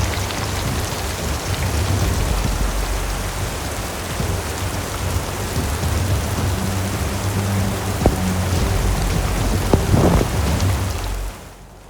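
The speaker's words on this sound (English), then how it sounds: "I just had to stand there in absolutely pouring rain." Heavy rain pours down steadily and loudly, a dense continuous wash heard from a small sheltered nook, with a few brief knocks and clatters near the end before it cuts off.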